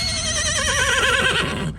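A horse in a video game whinnies loudly and close up, a wavering, quivering neigh that lasts under two seconds and trails off at the end.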